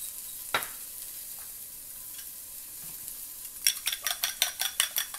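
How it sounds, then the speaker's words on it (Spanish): Onion frying in a pan gives a soft, steady sizzle, broken by occasional stirring knocks and then a quick run of rhythmic utensil taps against the pan near the end, with no talking. "Vean la cebolla qué rica se está poniendo."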